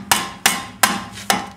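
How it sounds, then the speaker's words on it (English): A hammer tapping a Subaru EA82 steering knuckle down onto a strut: four sharp metallic whacks at an uneven pace, each ringing briefly before the next strike, loud and close. "Should probably take a little bit of persuasion, a few whacks with a hammer."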